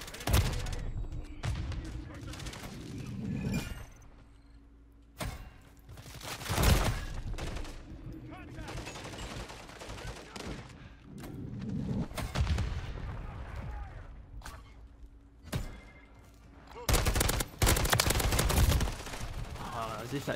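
Gunfire in Modern Warfare 3 on the Vista map: repeated bursts and single sharp shots with louder booms, scattered irregularly, heard close and under frequent talking.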